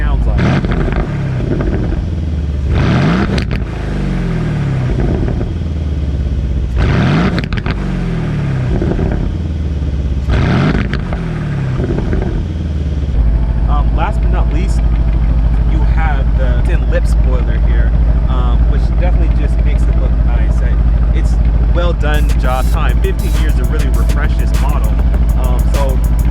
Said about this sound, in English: the beautiful sounding quad exhaust, which I'll plug in the clip here so you guys can hear what the exhaust actually sounds like